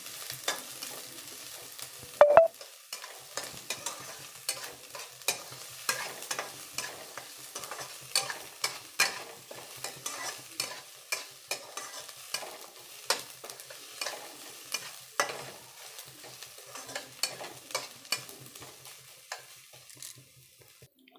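Onion and garlic frying in a pan for a potato and greens dish, a steady crackling sizzle with frequent stirring scrapes throughout, close and continuous with a sharp clatter near the start.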